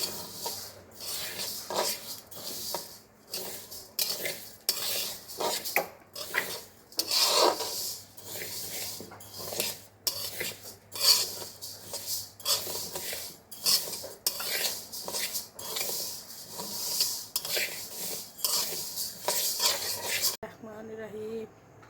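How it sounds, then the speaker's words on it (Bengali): Moong dal being fried in a pan makes a run of rhythmic scraping and rasping strokes from a spatula over the metal, fairly close and repeated steadily, then stopping abruptly near the end. "মুগ ডাল ভেজে নিলাম। মুগ ডাল ভাজবো"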